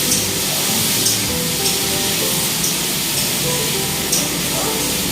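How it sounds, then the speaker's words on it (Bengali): Onions sizzle and hiss steadily in a hot pan as they brown, a dense close frying crackle with faint intermittent clicks of stirring, no talking. "পেঁয়াজগুলো একটু লাল লাল করে ভেজে নেবো"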